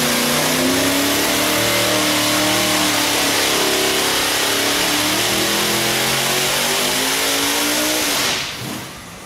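Detuned 2500+ HP Vortech Top Sportsman race engine running loud and steady at high revs, a dense roaring drone with wavering harmonics that cuts off sharply near the end.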